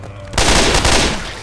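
Rapid burst of gunfire in the Left 4 Dead 2 video game, loud and close, a dense rattling volley starting abruptly and sustaining for about a second.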